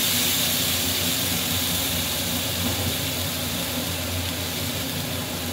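Ginger, cumin and green chili paste sizzling loudly in hot oil after a tempering of cumin seeds and bay leaf, a steady, dense hiss that runs unbroken and close throughout.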